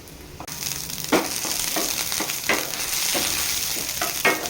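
Garlic and green chillies sautéing in a pan for a brinjal chammanthi, a steady close sizzle broken by repeated spatula scrapes at an irregular rhythm, no talk.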